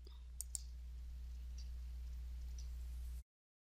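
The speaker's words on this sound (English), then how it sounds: "I'm going to click on that," A computer mouse clicks twice in quick succession while a file is selected, faint and close over a steady low electrical hum, then the sound cuts to silence.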